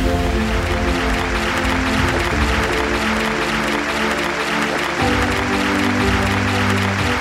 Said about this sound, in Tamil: ஒரு மிகப்பெரிய கைத்தட்டலோட மேடைக்கு வெல்கம் பண்ண போகிறோம்